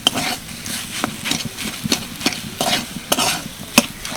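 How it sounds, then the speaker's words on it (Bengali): Modak filling of coconut and jaggery is stirred in a pan, the spoon scraping and tapping in a steady irregular rhythm over a faint sizzle, close and moderately loud, with no talking. "গুড় দিয়ে বেশ কিছুক্ষণ নাড়াচাড়া করে একদম শুকনো শুকনো করে নিয়েছি"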